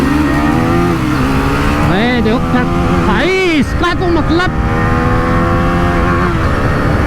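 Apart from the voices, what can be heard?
TVS Apache RTR 310 and Husqvarna Vitpilen 250 drag racing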